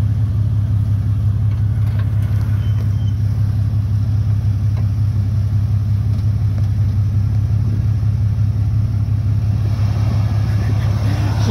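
A Jeep XJ idles and rumbles steadily while being driven off-road, a low constant engine drone close up with little change and faint background noise.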